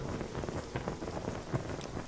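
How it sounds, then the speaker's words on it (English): Light drizzling rain in the video game Morrowind patters softly and continuously, a faint even hiss with scattered drops and no talking. "It's raining. Oh, yeah. Slight drizzle right now."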